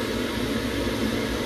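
A steady broadband mechanical roar with a low hum from a gas boiler burner running close by, constant throughout with no talking.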